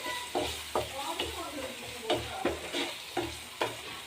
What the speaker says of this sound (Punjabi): ਇਹਦੇ ਵਿੱਚ ਅਸੀਂ ਇੱਕ ਪੈਕੇਟ ਮੈਗੀ ਮਸਾਲਾ ਪਾ ਦੇਵਾਂਗੇ ਤੇ ਇਹਨੂੰ ਚੰਗੀ ਤਰ੍ਹਾਂ ਮਿਕਸ ਕਰ ਲਵਾਂਗੇ